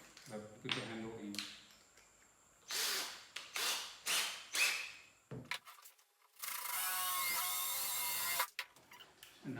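A power drill bores through a wooden dowel in short whirring bursts, then runs in one long, steady grinding stretch near the end.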